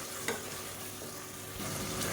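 Tomatoes fry in oil with fennel seeds in a pan, a steady, soft hiss of sizzling with faint scrapes of stirring, no voices over it.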